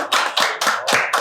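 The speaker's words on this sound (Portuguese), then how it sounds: "Salva de palmas, né?" A small group of guests at a Brazilian podcast recording claps in a few quick, sharp, close bursts, loud and distinct, with no talk.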